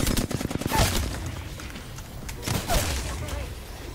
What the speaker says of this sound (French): C'est où qu'on me tire dessus comme ça, comme des malades?